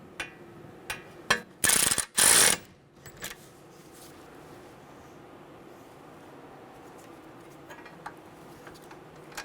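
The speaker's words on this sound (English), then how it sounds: "Get the bolt started. Snug it down." A ratchet tightens a bolt on the front wheel hub of a 2011-2014 Hyundai Sonata during a wheel bearing replacement. Two loud, close ratcheting bursts come in quick succession, then quiet workshop ambience with a few faint clicks follows.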